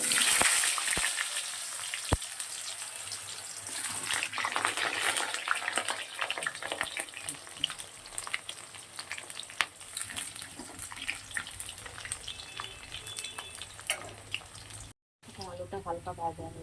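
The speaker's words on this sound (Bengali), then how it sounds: "আলুটা হালকা ভাজা হয়েছে," Potatoes fry in hot oil with cinnamon and cloves in a wok for a crab curry, giving a steady hissing sizzle with small crackles and occasional clinks, while someone talks in the background.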